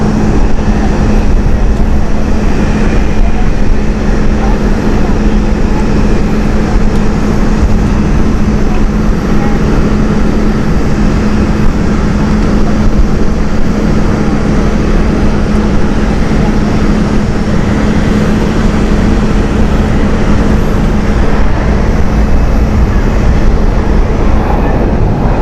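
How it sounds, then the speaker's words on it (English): A Cathay Pacific Airbus A350 departs Amsterdam Schiphol, heard as a loud, steady, broad jet-engine roar that holds without a break, carrying a constant low tone. "Cathay Pacific is now departing with the Airbus"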